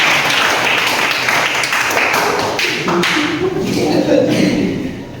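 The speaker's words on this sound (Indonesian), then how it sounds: "Tepuk tangan untuk kelompok pertama." A classroom group applauds the first student group after their presentation, giving dense clapping for about five seconds. A voice speaks over it near the end.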